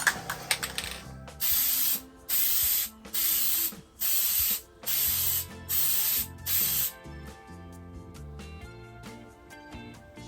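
An aerosol can of Plasti Dip rubber coating, held upside down to clear the nozzle, gives seven short, even hissing sprays in a row, with music playing underneath.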